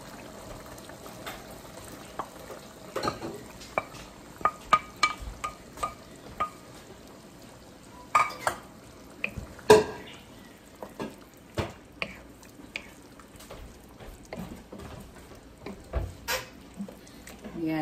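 Liver being stirred into rendered pork fat in a hot pan, with a continuous soft sizzle and repeated scraping clacks of a spoon against the pan at an uneven pace, close by.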